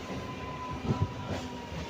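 A MEMU train runs along on a journey between Karimnagar and Sripur Town, a steady low rumble of rolling wheels and carriage noise with a couple of slightly louder knocks near the middle.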